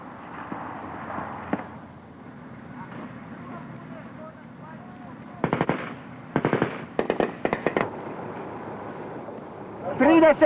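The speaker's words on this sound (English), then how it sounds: "The heavy machine gun is called into action, but it's still a stop-start business." A heavy machine gun fires in short stop-start bursts during fighting in Bosnia near Sanski Most, loud rapid clattering volleys separated by pauses, with indistinct voices and rumble before them.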